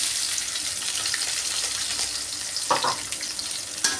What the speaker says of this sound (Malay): Minyak dah panas, kita boleh tumis bahan yang kita potong tadi ya.